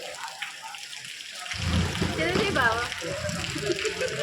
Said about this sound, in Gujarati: મિત્રો વરસાદ વધે ધીમે ધીમે